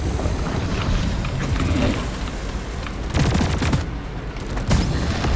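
Rapid, sustained weapon fire at a spitballer creature in the video game Deep Rock Galactic, a dense, loud rattle running continuously with a few heavier booms.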